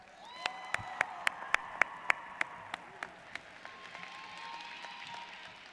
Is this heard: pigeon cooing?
no